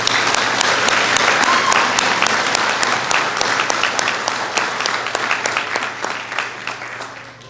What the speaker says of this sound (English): So another clap for Brad Jordan.